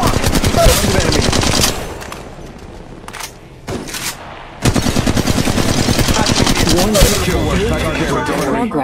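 Rapid automatic gunfire in the mobile battle royale game Apex Legends Mobile, loud dense bursts with short gaps, then a sustained volley, mixed with voice lines.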